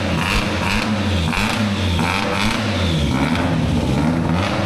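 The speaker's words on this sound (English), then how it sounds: "I was actually able to see Lamborghini in person, his fake Lambo build, and look at how it sounds" A fake Lamborghini replica build's engine revs loudly and close, with a continuous throaty drone that rises and falls in pitch over repeated throttle blips.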